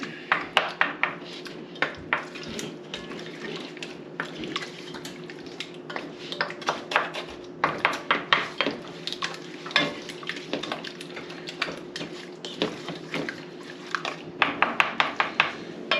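Ingredients with lemon juice being mixed in a saucepan give repeated quiet scraping and clinking strokes in uneven bursts over a low steady hum.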